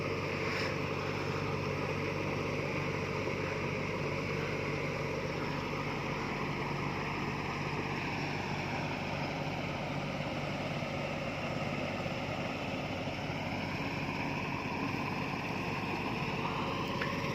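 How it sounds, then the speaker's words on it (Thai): A fishing boat's engine drones steadily on the Pattani River at a deep-water fishing port in Thailand, with lapping water and wind noise filling the open harbor air. "นี่คือบรรยากาศของแม่น้ำปัตตานี"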